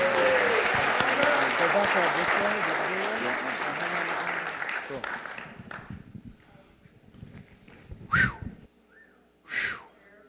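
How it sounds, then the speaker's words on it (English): A live audience gives a loud round of applause with whistles at a recovery-themed event. The clapping fades out after about five seconds, followed by a couple of short, isolated sounds. "Give Brandon Novak one more round of applause"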